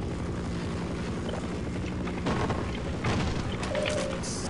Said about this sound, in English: A helicopter!